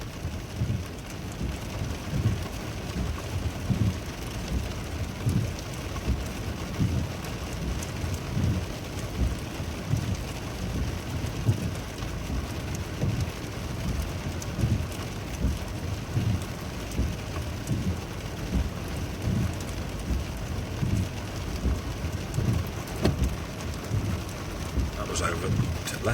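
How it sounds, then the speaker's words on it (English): Heavy rain pours steadily on the Devon coast near Devil's Point during a thunderstorm with lightning strikes, dense drumming rain with low thunder rumbles underneath. "there's a bolt of lightning just hit Devil's Point"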